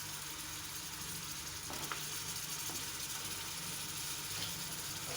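Mutton pieces dropped into hot oil for homemade nihari sizzle steadily, a soft continuous crackling hiss with a few faint clinks from the pot, quiet and with no voices.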